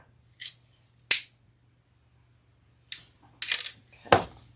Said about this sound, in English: Let me cut my extra, I have a lot of extra zipper tape.